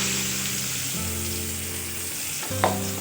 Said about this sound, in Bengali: পেঁয়াজ কুচিটা লাল লাল করে একটু ভেজে নেব।